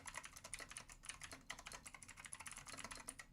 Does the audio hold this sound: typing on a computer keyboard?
yes